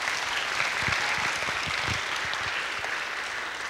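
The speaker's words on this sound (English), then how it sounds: "Give him a round of applause." A round of applause from the audience at a spring music studio recital; steady, sustained clapping from a modest crowd, even in loudness throughout.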